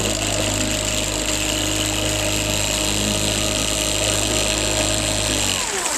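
A 2006 Trophy Pro 2052 boat's engine runs after a push-button start, holding a loud, steady drone with a constant hum that cuts off abruptly at the very end.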